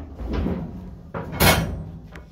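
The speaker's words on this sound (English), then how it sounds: "Let's get this other door open." A door in a ransacked flea market storage unit is pulled open with a couple of dull knocks and rattles, then one sharp, loud bang, close by and with no voices.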